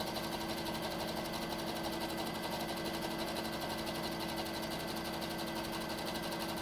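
A sewing machine runs a steady, continuous zigzag stitch through layered fabric for a three-layer cloth face mask, its fast needle rhythm humming loud and close without pause.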